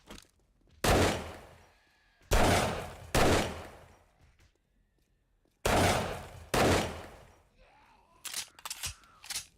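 Gunfire in the video game 7 Days to Die, four loud close bursts of shots in two pairs separated by quiet gaps, then a quicker flurry of smaller shots at the end.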